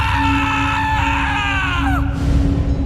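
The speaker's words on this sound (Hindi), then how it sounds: "चीख निकल गई" A loud, sustained scream cutting in sharply and wavering in pitch, depicting a frightened boy in a horror story scene inside a van, heard over a heavy droning background that drops off abruptly near the end.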